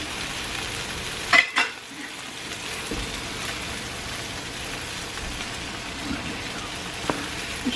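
Potatoes fry in a pan for Italian hot dogs, giving a steady close sizzle and crackle like light rain, with a couple of brief clattering knocks near the start and a small tap later.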